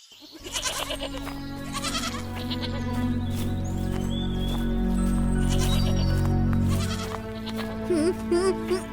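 Goats bleating at a village goat shed in a Hindi cartoon, several repeated bleats layered over a dense, continuous bed of music and background sound, with a few louder bleats near the end.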